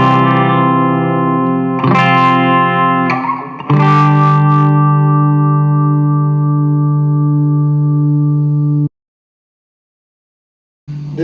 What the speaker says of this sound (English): This is how it sounds on the bridge pickup.